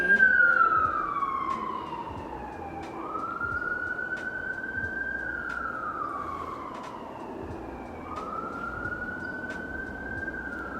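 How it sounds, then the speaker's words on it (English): Emergency vehicle sirens wail outdoors, rising and falling in slow sweeps, moderately distant and steady over a low background hum. "Lots of sirens and activity outside today."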